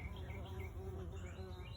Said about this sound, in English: love the bees. These two here are just going at it in here.